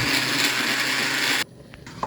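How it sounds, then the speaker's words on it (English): A blender purees thawed tomatoes with a little water for a stew, giving a loud, steady whirring roar close by that stops abruptly and is followed by a few faint clicks. "So I'm just blending it like that."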